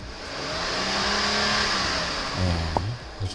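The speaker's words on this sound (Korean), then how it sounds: "RPM 조작 한번 해보도록 하겠습니다" A Hyundai Grandeur TG sedan with about 183,900 km on it revving while parked: the engine rises smoothly, holds, then drops back to idle, close and steady with no talking.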